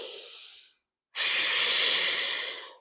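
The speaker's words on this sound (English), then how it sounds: "One more full breath." A slow, full yoga breath, close and airy: one long breath fades out, then after a brief silence a second long breath fills the gap, steady and unhurried.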